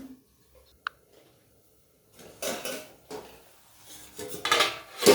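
A plate laid over a cooking pot of boiling prawns and taro: a sharp ceramic clink, then soft clattering scrapes and knocks of crockery against metal, close and fairly quiet.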